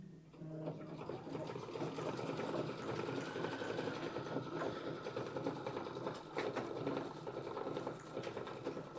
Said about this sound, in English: This is still part of the sewing machine.